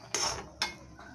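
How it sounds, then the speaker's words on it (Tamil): A metal plate set over a pan of rava kesari makes two quick clinks, a brief pause between them, followed by faint kitchen quiet. "ஒரு தட்டை எடுத்து இதை வந்து மூடி வச்சிடணும்."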